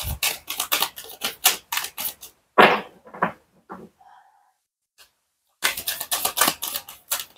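Tarot cards are shuffled in quick, rustling bursts that run for a couple of seconds, fall into scattered flicks and then a near-silent pause, and resume briskly at the end.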